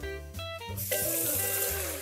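Water is poured into a pot of chicken and rice soup on the stove, a short burst of splashing and gurgling liquid that swells after a brief pause, heard close and alone over a low hum.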